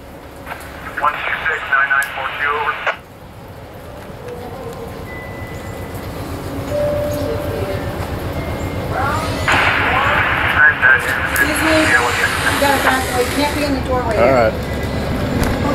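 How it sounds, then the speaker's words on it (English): An Amtrak passenger train arriving at a station on the Canadian Pacific main line: a broad mechanical rumble builds and grows louder through the second half, under bursts of voice and radio-like announcements. "Amtrak train 69 now arriving,"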